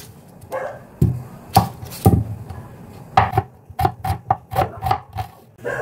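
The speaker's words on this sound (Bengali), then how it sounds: "এই পেঁয়াজটাকে আমি জাস্ট কুচি কুচি করে কাটবো।" Small onions are finely chopped with a knife on a board, producing sharp, close taps that start spaced apart and then fall into a quicker, steady rhythm.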